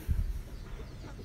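Dark mahogany chickens cluck softly from a backyard free-range flock, a short burst of low clucking near the start that fades into a steady, muffled farmyard murmur.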